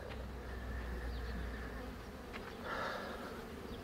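Honeybees freshly brought to an apiary after almond pollination, flying around their hives without an orientation flight yet, make a steady close buzzing drone with louder passes from single bees.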